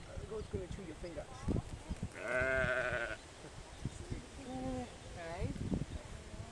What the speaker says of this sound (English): The goat's gonna chew your finger.